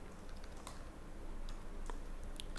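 Keys tapped on a computer keyboard while writing JavaScript code, a few soft, scattered clicks over a steady low background hiss, quiet and close.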